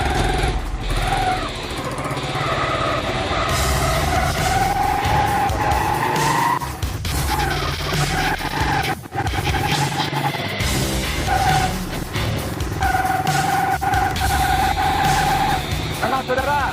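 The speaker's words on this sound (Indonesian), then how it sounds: "saya menggunakan motor ini menggunakan motor yang menggunakan bahan bakar air" A motorcycle said to run on pure water as fuel is ridden, its engine droning loud and steady close by with rising and falling revs throughout, unbroken by talk.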